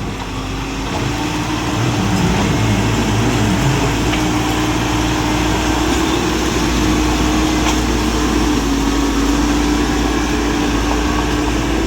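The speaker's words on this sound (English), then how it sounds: "tractor. That's work today." Tractor engine working on a road construction site in Portland, Jamaica, giving a steady, loud, close rumble that holds unbroken from start to finish, with no talking.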